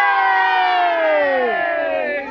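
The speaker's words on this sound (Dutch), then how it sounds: "Even juichen, jongens." A group of people on a Dutch street cheers together on cue, a loud sustained chorus of voices sliding downward in pitch and fading at the end.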